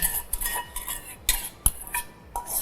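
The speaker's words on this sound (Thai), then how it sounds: "คนให้ละลายนะคะ" A spoon stirring sugar into boiling water in a pot to make syrup for mango juice, giving close, irregular scraping clinks and swishes with no talking.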